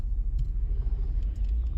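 A car drives through five o'clock traffic, heard from inside as a steady low engine and road rumble with faint higher ticks and clicks, and no talk over it.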